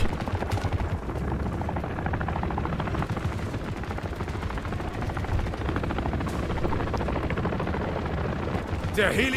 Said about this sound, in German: dieser scheiß Helikopter fliegt aber auch nicht weg